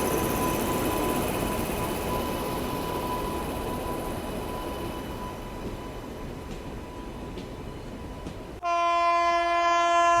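Mahananda Express passenger train pulling into Hathras Junction station, a loud continuous rumble of wheels and carriages rolling close by, ending with a long, strong multi-tone train horn blast.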